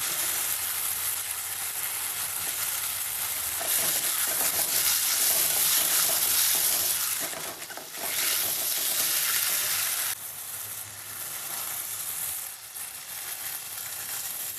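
Oggarane for upma spitting and sizzling loudly in a hot pan, a steady broadband hiss that swells and dips with occasional stirring scrapes, close and with no voices.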